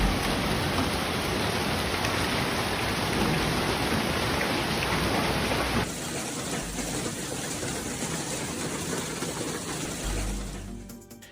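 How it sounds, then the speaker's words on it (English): Golf-ball-sized hailstones pound down during a storm in Nuevo Laredo, a dense, loud, unbroken hiss and clatter of impacts that eases slightly partway through and fades at the end, with no voices. "large hailstones fell from above, creating a frightening sound"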